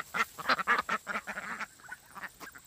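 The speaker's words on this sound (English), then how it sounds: "Our ducks are Rowan ducks" Rouen ducks quack repeatedly in a noisy, overlapping burst, then a few scattered quacks trail off, close and fairly loud.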